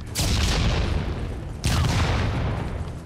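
Two heavy gunshots from a video game while shooting enemies, each a loud close blast with a long decaying roar, spaced about a second and a half apart.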